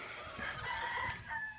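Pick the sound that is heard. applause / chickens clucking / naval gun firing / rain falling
chickens clucking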